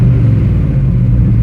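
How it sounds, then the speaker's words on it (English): A GMT 400 truck engine running rough and struggling to hold idle, a loud, close, low rumble with a steady uneven pulse throughout. "that's really what an engine should sound like. It should idle for us"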